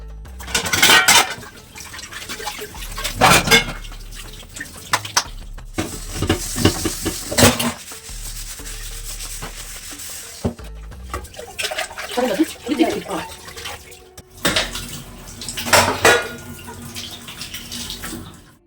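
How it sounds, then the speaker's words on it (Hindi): Running water and clattering as leftover dishes and utensils are washed in a kitchen sink, loud and close, with bursts of splashing and rinsing broken by short pauses over about eighteen seconds. "इसके बाद फिर जो बर्तन बचे हुए थे इनको मैं क्लीन कर लूँगी"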